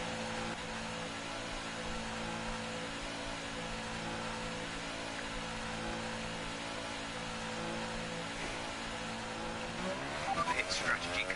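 Racing car in F1 2018 leaving the pit lane at Monaco, a steady engine drone with a rising rev toward the end, while a voice talks over it.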